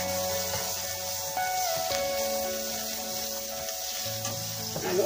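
Pork gisado seasoned with black pepper is stirred in a hot pan, a steady close sizzle and frying hiss with occasional scraping and stirring clatter, no talking.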